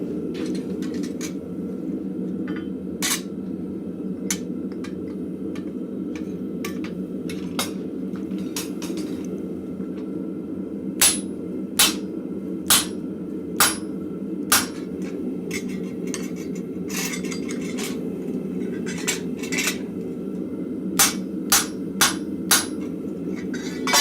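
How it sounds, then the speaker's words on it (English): Sharp metallic hammer strikes ring out as a blacksmith drives a punch through scrap metal on an anvil in a forge shop, irregular blows that cluster into rapid bursts over a steady low rumble of background noise. "So I'm getting a piece of scrap metal so I can actually punch through without damaging my anvil face."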